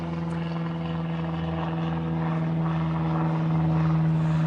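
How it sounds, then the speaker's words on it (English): A propeller aircraft drones overhead near a small airport, a steady loud hum with strong low tonal bands that swells slightly toward the end, heard alone. "airplanes."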